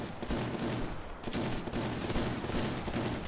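Rapid bursts of gunfire crackle continuously over a dense, loud backdrop of custom zombies game action, with no pauses and no talking.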